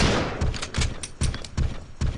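Shotgun blasts go off at Nemesis in the Resident Evil 3 video game, about six heavy booming shots in quick succession, each a loud thud with a short crackling tail.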